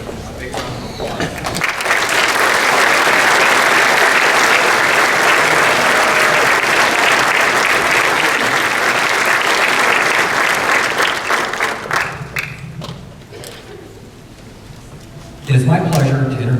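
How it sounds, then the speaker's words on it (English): A graduation ceremony crowd at Allen College gives graduates a long, loud round of applause lasting over ten seconds, then fades into scattered claps before a speaker resumes talking. "Give our graduates a big round of applause."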